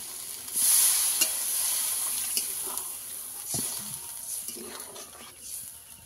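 Eggs being stirred into curry masala in a hot pan, with a steady close sizzle and frying hiss and scraping stirring strokes throughout, with no voice.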